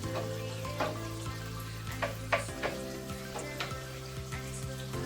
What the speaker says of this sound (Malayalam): ഇവിടെ തന്നെ സവാളയൊക്കെ ഇട്ട് വഴറ്റി എല്ലാം കൂടെ ഒന്ന് മിക്സ് ആക്കാൻ പോവാം